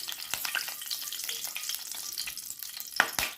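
Whole spices such as bay leaf, cloves, cinnamon stick and cardamom sizzle and crackle in hot oil in a pan while being stirred, a steady close frying hiss broken by a few sharp pops and scrapes.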